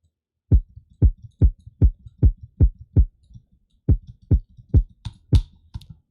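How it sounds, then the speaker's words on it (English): A deep, heartbeat-style kick drum sample thumps about thirteen times in a steady pulse, with a short gap partway through. Each hit is a soft, low boom with a faint secondary thud, heard alone and up close. "real heartbeat type of kick."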